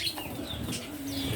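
Small caged pet birds, three of them with two kept in a cage, give off soft chirps and tweets close by indoors over a low steady background hum.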